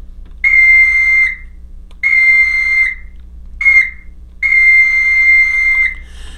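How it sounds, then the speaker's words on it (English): A model train's sound-equipped caboose air whistle blows a grade crossing pattern: two long blasts, one short, then a final long one, loud and close. "we can take our whistle, in this case, and we're going to blow our grade crossing sequence"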